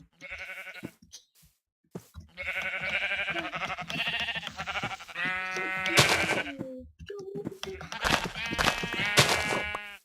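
Sheep bleat repeatedly in Minecraft, several drawn-out wavering cries in close succession, some overlapping, separated by short silences and a few sharp clicks.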